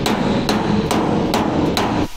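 A hammer knocks a dent out of a truck bed's sheet metal, landing five sharp, ringing taps at a roughly even pace, close and loud with nothing else around them.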